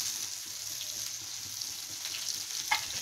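Onions, green chillies and ginger sizzle steadily in a hot pan, a continuous close hiss with a brief clink near the end.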